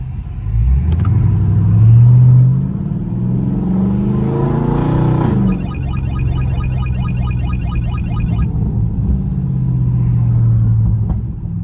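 A catless Dodge Scat Pack rumbles through traffic, its deep exhaust swelling as it accelerates and then settling into a steady, throaty drone. Close and loud, with a brief high-pitched whine partway through.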